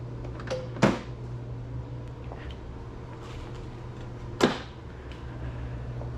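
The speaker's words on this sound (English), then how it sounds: "Push this down to open up your fuel door." Fuel door on a freshly imported Nissan Skyline R32 GTS-t Type M being released, two sharp mechanical clicks or pops a few seconds apart, fairly quiet against a low background hum.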